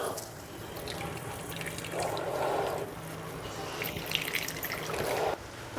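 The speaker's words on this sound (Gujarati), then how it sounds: "દૂધીમાંથી પાણી નીચોવી લીધું છે" Water squeezed by hand out of grated bottle gourd, trickling and splashing in a few wet bursts close by, with a steady kitchen background and no talking.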